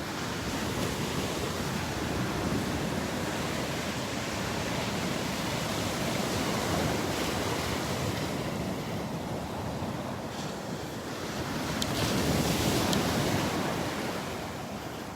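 Ocean surf rolls onto the beach at Delnor-Wiggins Pass State Park in North Naples, a continuous broad wash of breaking waves with wind, swelling slightly louder toward the end.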